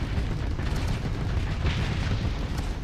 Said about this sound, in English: Wow, huge explosions.